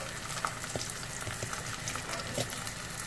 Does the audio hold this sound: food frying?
yes